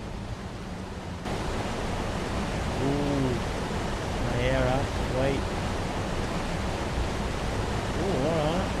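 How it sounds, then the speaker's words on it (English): Steady broadband rush of a waterfall in the icy cave world of ARK: Survival Evolved, a constant close wash of falling water running throughout while people talk over it. "Yeah, the waterfall too."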